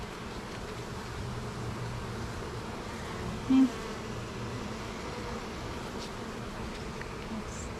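Honey bees buzz steadily around backyard hives during a hive inspection, a dense, continuous hum that holds close and even throughout with no talking.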